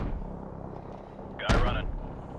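AC-130 gunship cannon firing in Call of Duty Modern Warfare Remastered: a single sharp boom with a brief ringing tail, set against a low steady drone and faint radio chatter.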